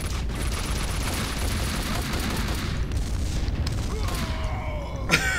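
Grenade blasts and gunfire in Max Payne 2 make a steady, dense game-combat din with booming bursts, a loud sharp crack near the end.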